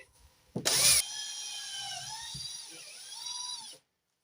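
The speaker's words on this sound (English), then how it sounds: "Afraid I was gonna break my drill bit." A power drill whirs loudly in a short burst, then settles into a steady high whine that wavers as it bores through wood before stopping abruptly.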